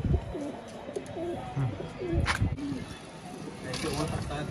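A Shahjahanpuri green pigeon coos in short repeated low calls close by, mixed with people talking and outdoor rustling.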